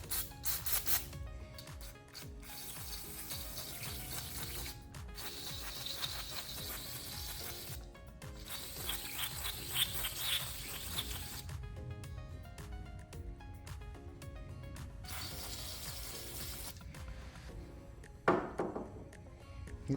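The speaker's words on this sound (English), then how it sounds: "use some mass airflow sensor spray" Mass airflow sensor cleaner sprayed onto the MAP sensor of a 2021-2024 Hyundai Elantra 2.0L, heard as several close hissing bursts separated by short pauses, with rattling and mechanical clicks of handling in between.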